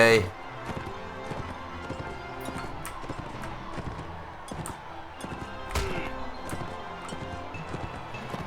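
Galloping hooves of a horse in Mount and Blade Warband, a steady rapid clip-clop with occasional heavier thuds and clashes, as someone talks.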